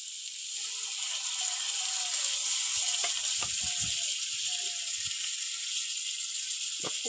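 Ginger paste frying in a pan for a Bengali egg curry gives a steady, close, bright sizzling hiss, with scattered faint clicks and scrapes beneath it.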